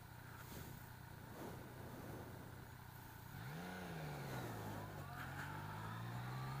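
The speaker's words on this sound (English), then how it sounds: "I've barely done anything, but it just rides like a motorbike." A Yamaha Niken three-wheeled motorcycle hums along at a steady pace, its engine tone rising in pitch partway through, heard faintly under wind and road noise.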